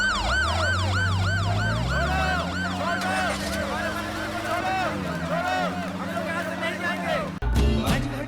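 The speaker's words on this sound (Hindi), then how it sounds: "देख लो, सायरन वाली है ना।" A wailing siren rises and falls in repeated loud sweeps from a car carrying a politician in a Hindi-dubbed South Indian action film, with engine rumble beneath and a sudden jolt of noise near the end.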